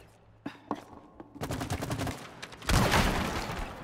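Heavy gunfire in the co-op video game It Takes Two, with scattered single shots first, then rapid bursts and a loud sustained blast of fire near the end.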